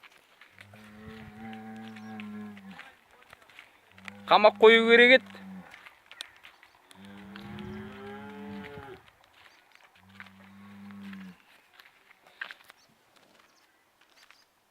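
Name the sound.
bull and cows lowing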